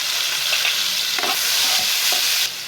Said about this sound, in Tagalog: Dito na po ako magigisa sa pinaglutuan ko po ng langgonisa.